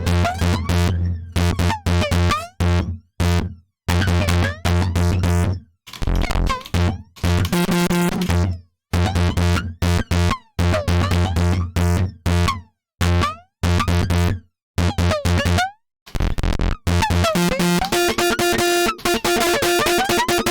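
A sine tone fed through an Ableton Live reverb effect rack, heard as choppy, stuttering bursts of buzzing synthetic tone with abrupt gaps and shifting pitch over about twenty seconds.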